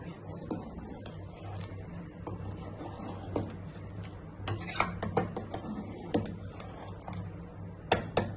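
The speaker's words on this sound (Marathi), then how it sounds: "आणि आमटी ढवळायची" A coconut-based Malvani-style drumstick amti is stirred in a pot. A utensil scrapes and clinks against the metal in irregular strokes over a low background hum, with a few sharper knocks near the end.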